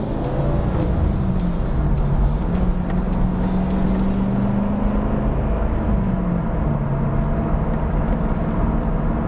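A 2002 Chevrolet Corvette Z06 drives along with a steady, dense engine drone and road roar, the pitch easing gently up and down as it cruises, with no speech.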